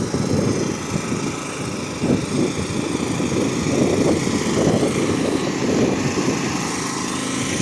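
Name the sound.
power generators running in the street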